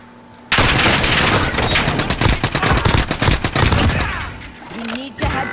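Rapid bursts of video game gunfire crackle loud and close, dense volleys of shots rattling almost continuously for several seconds before easing off, with a voice talking over them at points.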